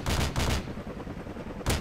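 AK rifle firing in Modern Warfare 2 Team Deathmatch on Scrapyard, a rapid burst of loud shots, then a lull and a second short burst at the end.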